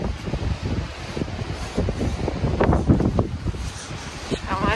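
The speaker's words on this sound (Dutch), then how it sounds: "Waait lekker." Strong storm wind gusting outdoors in a garden with a broken fence, a steady loud broadband roar with buffeting gusts on the microphone throughout, no speech.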